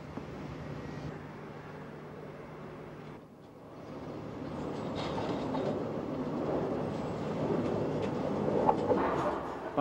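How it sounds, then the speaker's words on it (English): A Docklands Light Railway works train arrives on the line to begin track removal, a low, faint rumble that dips briefly and then gradually grows louder and closer. "a works train arrives to start removing the track"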